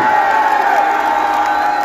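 A large gathering in Kenya cheers and applauds, a dense, continuous wash of clapping, shouting and whoops that stays loud and steady throughout.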